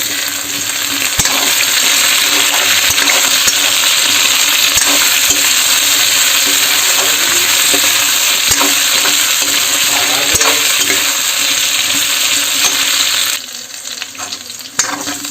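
Food, with potatoes among it, is frying in oil in a pan at home while being stirred. A loud, steady sizzle runs throughout with occasional utensil clinks, then eases slightly near the end.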